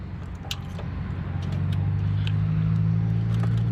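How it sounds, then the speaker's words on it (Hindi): A car engine runs steadily with a low, droning hum that swells slightly after the first second and then holds, close by, with a few faint clicks over it. "अभी अल्टरनेटर गाड़ी को स्टार्ट किया"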